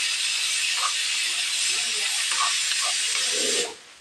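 Goat brain deep-frying in oil gives a loud, steady, hissing sizzle, close and unbroken for several seconds before it drops away sharply near the end, with no talk over it.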